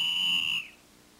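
A single sharp, shrill whistle blast, like a referee's whistle at an ice hockey game, held for about half a second and then cut off, leaving quiet background.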